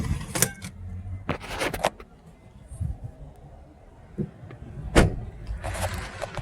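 In a 2018 Ford Kuga, a window sunshade is pulled, giving a few short sliding and clicking bursts close up, mixed with handling noises and occasional speech.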